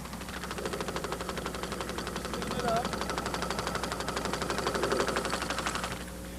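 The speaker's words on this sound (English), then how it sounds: "That's a 4-cylinder engine right there." A 4-cylinder engine runs with a fast, steady mechanical pulse at moderate loudness, swelling slightly a couple of times as the speed shifts, then cutting off near the end.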